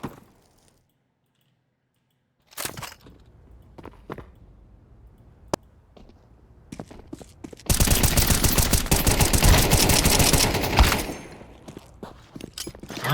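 Rapid bursts of SG-53 automatic gunfire in a first-person shooter, first a few scattered single shots, then a loud sustained volley of several seconds, close to the listener and with no talk over it.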